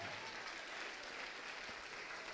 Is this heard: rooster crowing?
no